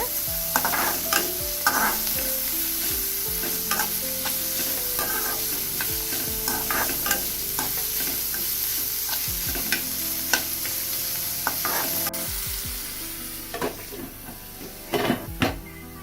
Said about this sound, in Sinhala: දැන් හොඳට කලවම් කරලා හට්ටිය වහලා ලුණු ටික මැලවෙන්න දෙන්න.